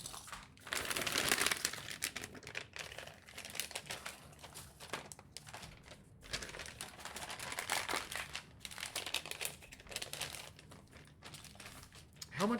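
Paper packaging from a LEGO Enterprise D set is crumpled in bursts of crinkling and rustling, loud and close, with pauses between handfuls.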